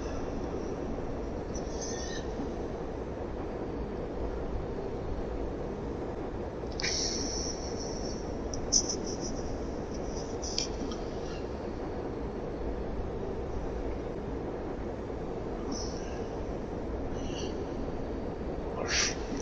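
Freight train running through a railway junction toward Riesa in a train simulator, a steady low rumble with a few faint brief squeals and clicks over the run, no talk.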